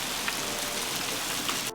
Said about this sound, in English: I'm so sick of the rain.